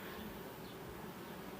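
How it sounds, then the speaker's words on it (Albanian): Honeybees flying around a hive in an apiary, a steady dense buzzing hum that stays even and continuous throughout, with no voices. "Shife, vinë bletët, po fluturojnë"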